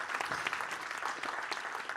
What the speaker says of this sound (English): Really, a big round of applause to Mrs.